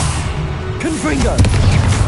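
Confringo fire blast spell in Hogwarts Legacy, a loud booming burst over continuous rumbling combat noise, with a voice speaking over it.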